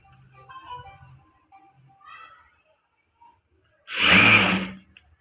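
A sewing machine runs a single short, loud burst of stitching along the centre of a fabric piece, preceded by quiet rustling and handling noises.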